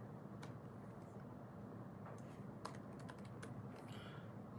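Computer keyboard keys tapped in short bursts of clicks while a password is entered, faint and close, over a steady low background hum.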